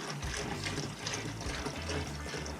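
Flow-Aide coil cleaning solution is poured from a quart container during coil cleaning on a Navien NCB 240 combi boiler, a steady close liquid gush running without a break for the whole stretch.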